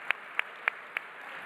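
Four crisp, evenly spaced hand claps ring out at a presentation, close and fairly quiet against a faint background hiss, then stop.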